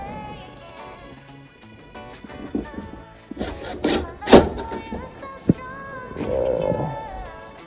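Screws being driven by hand into the door of a Samsung VRT Plus washer during a door boot seal replacement, giving a run of close scraping, squeaking turns with a few sharp clicks and knocks midway.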